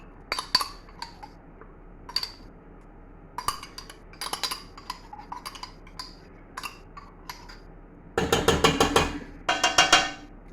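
Tamarind is spooned into a pan while making an onion ketchup brown sauce, with sharp metallic scrapes and clinks of a spoon against metal, scattered at first, then a rapid burst of repeated scraping near the end, close up.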